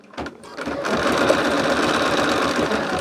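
An embroidery machine stitches a design for a lumbar pillow, starting with a few clicks and then settling into a loud, continuous, rapid mechanical whirring and tapping right up close.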